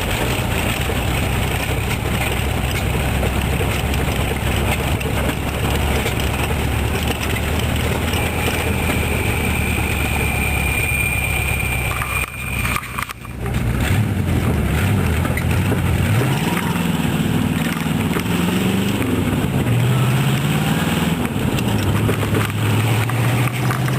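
Ratrod roadster engine running while driving, a steady loud drone mixed with heavy wind buffeting and a shifting engine note in the second half.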